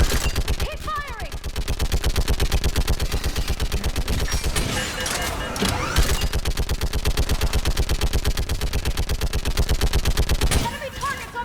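Sustained automatic gunfire in a Mass Effect firefight, a rapid, steady stream of loud shots running almost without pause, briefly thinning midway, with a voice calling out under the din.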